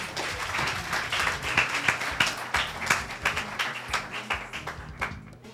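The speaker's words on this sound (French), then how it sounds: "Applaudissez-la, s'il vous plaît." An audience applauds at a gathering honouring contributors to a dictionary project, with sustained, moderately loud clapping that swells, then thins out toward the end.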